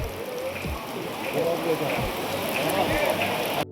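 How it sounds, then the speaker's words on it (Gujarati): Rain pours down in a steady, dense hiss, with voices talking underneath. "વરસાદ સારો આવી ગયો છે"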